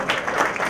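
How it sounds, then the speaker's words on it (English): Brief burst of applause from an audience at a Hispanic chamber of commerce event in New York, close and fairly loud, with crowd noise. "So let's give her a big, big applause for supporting and paying this event."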